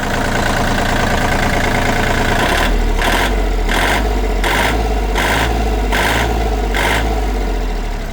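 A Kubota L1-185D diesel tractor engine runs loudly up close, its steady chugging idle joined by a rhythmic pulsing throb partway through.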